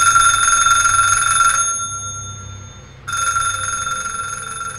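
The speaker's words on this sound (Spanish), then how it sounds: "el teléfono sonó una vez más" A telephone rings with a bright, steady electronic tone, pausing for over a second of silence before the ring resumes, loud and close with no talk.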